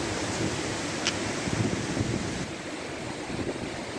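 A constant broadband rush of falling water from Makeli Ella waterfall in Sri Lanka roars steadily, with wind buffeting the microphone and no voices.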